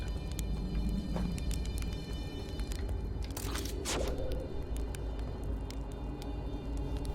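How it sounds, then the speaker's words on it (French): Small mosquitoes buzz in the video game Outer Wilds, a thin steady whine layered over a constant dense insect drone, with a few brief sharper flits passing close, no talking. "j'ai plein de petits moustiques, c'est quoi ce délire?"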